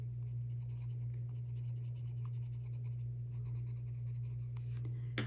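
Colored pencils (Prismacolor) blending on paper, a soft rapid scratching of strokes going on continuously and quietly over a steady low electrical hum.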